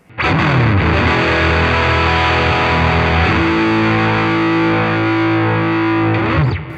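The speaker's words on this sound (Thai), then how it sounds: "ต่อมาลองกันที่เสียงแตกครับทีนี้เราจะลองปิกอัพตัวนี้นะครับฮัมบัคเกอร์ตัวเดียวเนี่ยนะฮะเสียงแตกกันไปเลย" Heavily distorted chords from a Kazuki Silent SA-40 acoustic-electric guitar through a single humbucker pickup sustain loudly, shifting once midway and ringing out thick and saturated until a short stop at the end.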